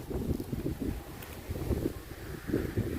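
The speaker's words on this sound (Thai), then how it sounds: "ทั้งฝนตกทั้งลม" Gusty wind blows outdoors in cold, rainy weather at a rural home, a dull, continuous rumble buffeting the microphone in uneven waves with no voices.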